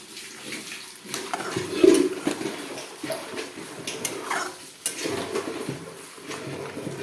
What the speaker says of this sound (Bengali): ভালো করে কষাবো এখানে কড়াইতে